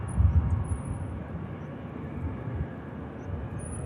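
A Ryanair jet departs Manchester Airport for Tenerife with a broad, fairly loud engine roar that swells briefly at the start and then holds steady, heard from a distance with no talking.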